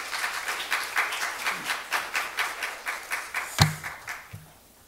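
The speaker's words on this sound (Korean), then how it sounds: "목사님께서 나오실 때에 우리 환영의 박수로 함께 해주시면 감사하겠습니다" Congregation at a Korean church service applauds to welcome a visiting pastor: a steady run of many hands clapping in rhythmic waves, fairly close and loud, fading out at the end.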